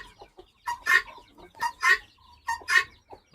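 Close, loud clucking calls from chickens and guinea fowl come in three rhythmic bursts, each a quick run of sharp cackles with short pauses between.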